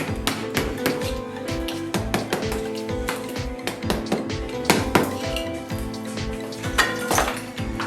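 Repeated sharp metallic strikes and ringing clinks, irregular and close, as a blunt chisel is hammered against a bathroom wall, with rattling debris between hits.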